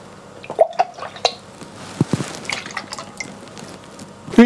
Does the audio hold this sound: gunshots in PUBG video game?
no